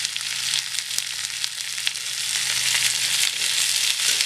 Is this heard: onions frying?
yes